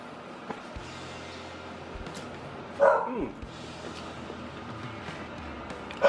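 A dog gives one short bark midway over a low background hum.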